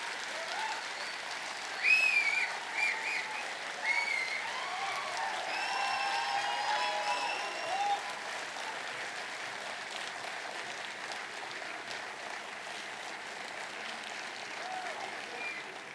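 An audience at Jashn-e-Rekhta 2017 applauds to welcome the guests Gulzar and Javed, a long, sustained round of clapping with a few whistles and cheers early on.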